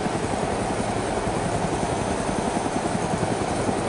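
A helicopter in the video game DayZ drones steadily and loudly throughout, with a low, pulsing rotor chop under a dense wash of engine and air noise. No one speaks.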